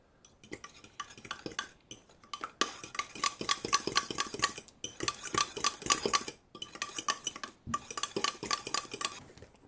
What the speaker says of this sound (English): Let's give that a mix up